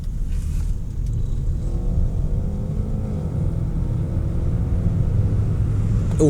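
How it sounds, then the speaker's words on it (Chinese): A 2025 BYD Denza D9 AWD electric MPV accelerating in Sport mode produces a steady, fairly loud low cabin rumble of road and tyre noise with a faint rising whine, and no engine revving. "我们现在去到 Sport 模式，加速。"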